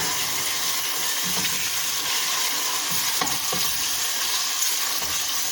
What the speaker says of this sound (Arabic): دابا غنديروا الدجاج حتى هو كيتشحر